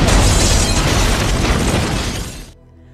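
A bazooka blast in an action film, a loud, dense roaring explosion that rumbles for over two seconds before cutting off abruptly into near silence.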